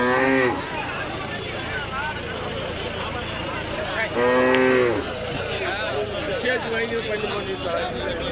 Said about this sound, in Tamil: இந்த சந்தையில் வந்து நாட்டு மாடு வந்து கம்மியாக தான் இருக்கும்.